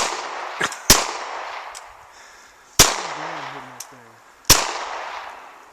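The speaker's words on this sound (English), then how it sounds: "I'm going to be shooting this GSG 1911. Shoots a 22 long rifle." Three sharp, loud gunshots from a GSG 1911 pistol chambered in .22 Long Rifle, fired outdoors in rural Michigan, with a quieter crack between them and brief echoing decay after each shot.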